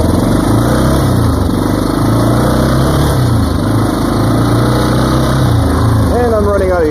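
Yamaha Big Bear ATV engine on a test ride around a yard after a clutch rebuild, a steady loud drone whose pitch steps through gear shifts, climbing into a rising rev near the end.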